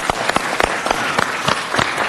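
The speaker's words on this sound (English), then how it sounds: "Give them all a round of applause" Applause at a city council meeting honoring LAPD officers called to active duty, with sharp, distinct claps standing out over a steady clapping crowd.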